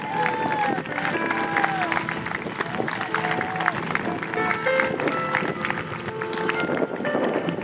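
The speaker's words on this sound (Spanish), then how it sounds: "Así que usted denle un fuerte aplauso a Dios." A church congregation at an evangelistic campaign service applauds with steady, continuous clapping, mixed with voices and tonal, music-like sounds throughout.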